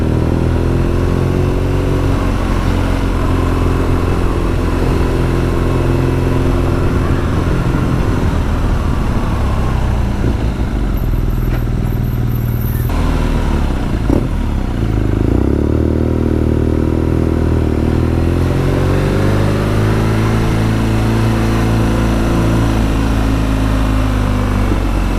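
A 2020 BMW R nineT Scrambler motorcycle engine runs steadily and loudly for the whole stretch, its idle swelling into revs and easing back down again, with no one talking over it.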